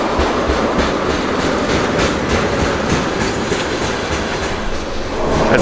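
A video-game train rumbles past through snow with steady clickety-clack of wheels over rail joints, loud and close throughout, with no talking.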